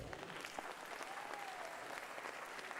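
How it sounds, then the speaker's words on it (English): An audience at a yoga talk applauds steadily, a dense wash of clapping hands that holds at an even level throughout without pause. "Please give a big round of applause."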